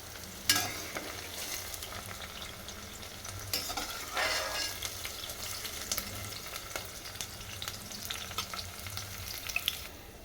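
Chopped medium onions fry in a pan with a continuous close sizzle and frequent scraping stirs, one loud clatter near the start and a brief burst of spitting around the middle.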